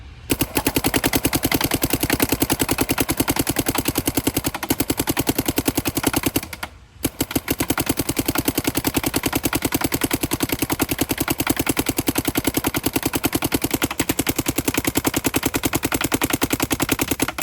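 Paintball marker firing Gold Shell Pro Char paintballs in a very rapid, loud, continuous stream of shots, interrupted once by a short pause before the stream resumes, with no voices.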